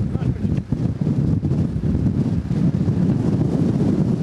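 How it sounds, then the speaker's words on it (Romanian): Strong wind above 90 km/h in a snowstorm, a loud, continuous gusting roar buffeting the microphone with low rumbling surges and no break throughout. "Iată ce se întâmplă în momentul în care vântul suflă cu peste 90 de km la oră"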